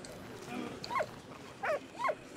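A dog in the World War I game Valiant Hearts: The Great War gives three short barks or yelps, close and clear, with quiet game sound underneath.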